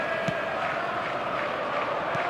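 Stadium crowd noise from eFootball 2025, a steady dense roar of cheering fans filling the ground at constant loudness, with a couple of brief sharper bursts rising out of the wash.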